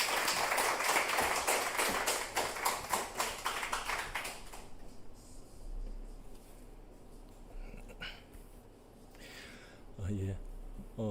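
Warm audience applause welcoming a pastor at a Wednesday church service: loud, rhythmic clapping for about four seconds, then fading into quiet room noise with a few soft knocks and shuffles.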